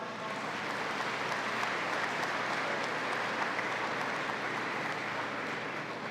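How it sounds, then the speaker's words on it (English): Sustained audience applause at an event celebrating Ahmadiyya Muslims and visiting dignitaries, a dense steady wash of clapping that holds at even loudness for about six seconds with no voices on top. "Can you give yourselves a big round of applause?"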